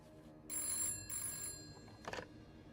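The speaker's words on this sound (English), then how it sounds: "I nearly had a heart attack when I heard the phone ring." Old telephone ringing in the video game This Bed We Made, two bright metallic bell bursts in quick succession, fairly quiet, followed by a brief voice.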